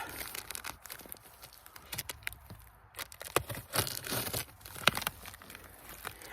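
Garden bed packaging being opened with scissors: close crinkling, tearing and crunching of plastic and cardboard in irregular bursts, fairly quiet, with no talking.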